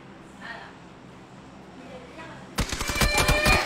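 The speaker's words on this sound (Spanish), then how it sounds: "yo escuché disparos por acá ahorita" Muffled background noise and faint voices give way to a sudden burst of rapid PUBG Mobile gunfire, loud and sustained for the final second.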